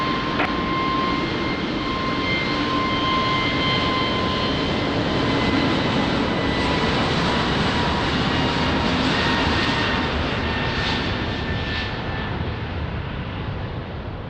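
Continuous loud drone of a jet airliner on approach to land on runway 20 at Lisbon Airport, steady and close throughout with faint tonal whine layered over a broad engine roar.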